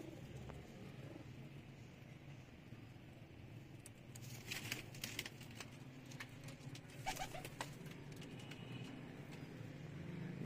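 Pigeons in a breeding setup coo softly at close range, with light fluttering and pattering in the middle of an otherwise quiet scene.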